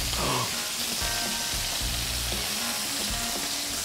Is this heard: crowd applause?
no